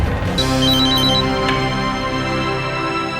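A phone rings with a bright, electronic ringtone, its repeating chirps standing out over a steady background tone.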